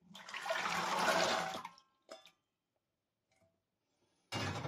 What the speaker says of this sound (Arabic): ودلوقتي هي الميه بتاعتي، طبعا هحط فيها الفول